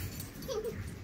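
A single soft, high whimper from a puppy, brief and faint against quiet background noise.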